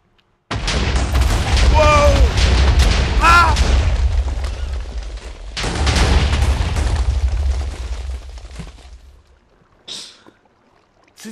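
A loud, booming explosion from the video game Minecraft bursts in, then a second blast a few seconds later, with a rumbling tail that fades; excited voices react over and between the blasts.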